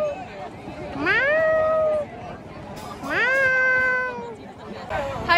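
A person imitates a cat, giving two drawn-out meows about a second each, with a fainter third starting at the end, loud and close above a murmur of background voices.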